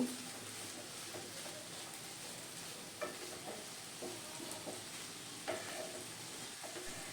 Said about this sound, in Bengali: এবারে একটু এগুলোকে নেড়ে চেড়ে নিয়ে মিশিয়ে নেব